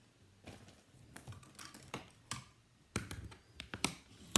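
Bone folder rubbed along the fold of scored card stock, giving quick scraping and tapping strokes in uneven bursts, close and moderately loud, with no voices.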